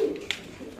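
A fancy pigeon at a pigeon farm gives a single soft, low coo near the start, with a brief faint click partway through; quiet and close, with no talking.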